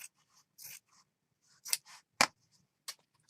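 Scissors snip through paper for a handmade Christmas mini journal, with sharp, close, irregular cuts and short pauses between them in a quiet room.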